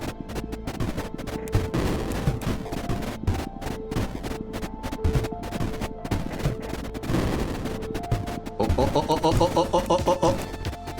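Rapid cannon fire and explosive bursts in the strategy game Creeper World IXE, a dense run of repeated blasts with electronic tones, growing busier and louder toward the end.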